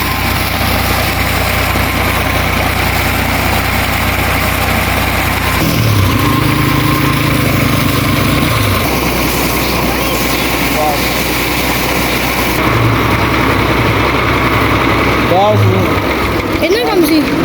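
A tubewell pump engine runs steadily throughout at close range, a continuous droning idle with a low rhythmic thump, while people talk over it and the engine tone shifts slightly at moments.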